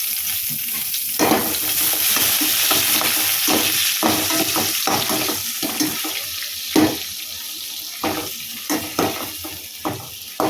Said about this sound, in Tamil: வெங்காயம் சேர்த்து நம்ம நல்லா வதக்கிடலாம்.